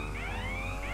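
A car alarm wails in GTA V, a steady rising electronic tone held loud and continuous throughout, with no voices over it.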